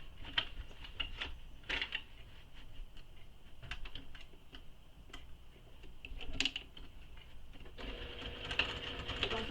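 A sewing machine stitches a seam with the fabric wrapped around its free arm, a steady soft mechanical whir with light ticking that grows louder and busier near the end.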